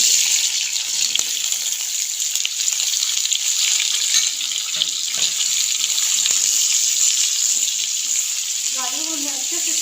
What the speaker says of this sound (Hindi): गाजरों को हमें अच्छे से इसके अंदर फ्राई करना है।